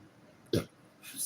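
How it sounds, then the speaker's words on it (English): A single short burp sounds close and clear from a person, followed by a brief rise of quiet background noise. "I burped."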